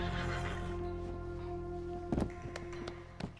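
A horse in Red Dead Redemption 2 whinnies over a droning game background, then a few hollow hoof thuds and taps follow in short bursts.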